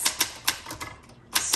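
Keystrokes clack on a 1966 Olympia SF travel typewriter, several sharp, close strikes in an uneven rhythm with a short pause before a final burst.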